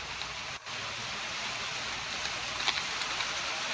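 Steady rain falls throughout, a continuous close hiss with occasional louder drop ticks and no voices.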